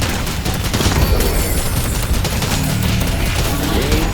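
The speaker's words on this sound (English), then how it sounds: "Firing protoplasm." Viscous firing protoplasm in the hero shooter Deadlock, a dense, continuous barrage of loud gunfire-like blasts and booms filling the whole stretch, with game effects layered over it and no clear talk.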